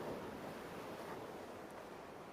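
Ocean waves wash over a beach in a steady, broadband surf roar that stays even and moderately loud, with a light wind hiss throughout and no voices.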